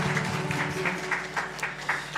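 A church congregation applauds during a Sunday worship service, with steady, sustained clapping from many hands throughout and some voices mixed in.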